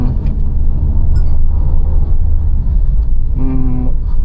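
Mahindra XUV700 AX7L diesel SUV accelerating hard from inside the cabin, a loud, continuous low engine drone that rises in pitch, then changes tone as the automatic gearbox downshifts near the end.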